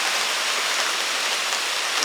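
Heavy rain pours steadily in a dense, even hiss that continues without a break, loud and close, with no voices.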